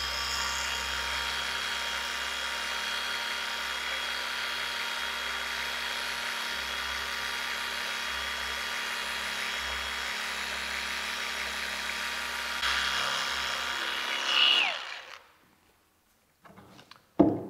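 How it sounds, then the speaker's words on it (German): A car polishing machine on speed 3 buffs piano-black paint on a Mazda, a steady high whirring drone that runs continuously before winding down and stopping near the end. "Jetzt dann auf Stufe 3 und polieren."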